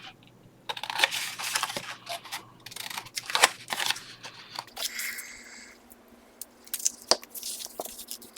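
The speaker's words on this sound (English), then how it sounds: "So I'm going to trim the top right here." Paper is trimmed with scissors while making a handmade vintage truck journal, giving a close run of crisp snips and rustling paper, followed by quieter handling sounds and a few sharp taps, no voices.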